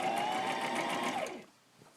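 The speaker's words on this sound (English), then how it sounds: "Let's sew this on, and I'm just going to be using a straight stitch." Sewing machine running a straight stitch on a 1920s-40s style farmhouse bib apron, a steady close whir that slows and stops after about a second and a half.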